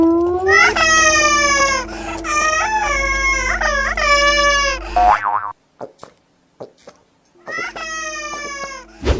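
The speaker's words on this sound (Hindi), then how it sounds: "अरे ये मेरे बच्चे तो बहुत रो रहे हैं, ये तो चुप ही नहीं हो रहे हैं।" Several cartoon babies cry loudly in a high, wailing chorus of long sobs with short breaks, cutting off midway and then starting up again near the end, set against a steady background music bed.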